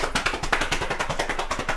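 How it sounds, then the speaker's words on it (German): Rapid, steady pats on the thighs during a group singing warm-up, a dense run of soft slapping hits lasting under two seconds with no voices over them. "Wir gehen nach unten, klopfen die Beine"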